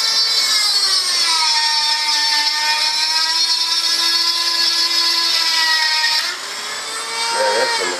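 A rotary power tool trims hard, stainless-like metal parts off a model jet turbine for an F-14 Tomcat build. It gives a close, loud, steady high-pitched whine whose pitch wavers and shifts near the end.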